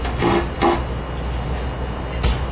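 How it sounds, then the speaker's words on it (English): A small saw cuts through the wooden lining inside a handmade guitar's back, giving a few close, scratchy rasping strokes over a steady low hum. "And on both sides, don't cut into the side material, just cut on the lining."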